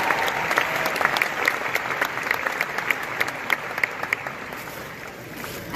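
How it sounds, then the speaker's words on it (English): A graduating high school class of 2018 applauds at a commencement ceremony, broad steady clapping from a large seated crowd lasting the full stretch and tapering slightly at the end. "give yourselves a round of applause."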